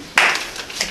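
Short burst of audience clapping at a poetry reading in a San Francisco hotel, starting abruptly and fading quickly to a low murmur.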